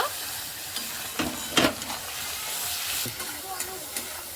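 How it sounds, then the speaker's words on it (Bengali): Chicken sautéing in a pan with salt and turmeric for chicken kosha, a low steady sizzle broken by a few sharp scraping stirs, fairly quiet and close. "এবার ভালো করে আমি কষে নেব"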